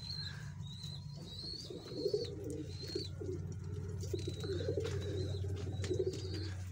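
Firozpuri pigeons coo softly and repeatedly with their young chicks nearby, low rolling calls under a steady background hum, with occasional faint chirps and tweets from other birds.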